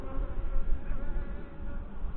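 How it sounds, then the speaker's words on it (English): Honey bees buzz steadily around an open hive during a spring inspection, a dense, close droning hum that swells and fades slightly with no talking. "Watch where the bees are."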